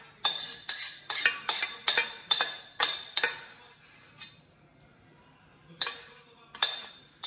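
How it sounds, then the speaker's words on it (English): Zeppole batter stirred in a pot, with a utensil scraping and knocking against the pot in quick, fairly loud bursts, then a pause and a few more scrapes. "And make sure you stir constantly"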